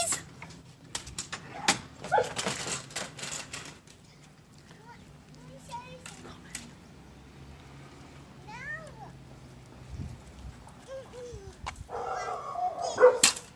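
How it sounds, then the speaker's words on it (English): Pet dogs yip and bark in short scattered bursts outdoors, mixed with meow-like cries and mid-distance chatter from people talking over them. "They're the pretty doggies."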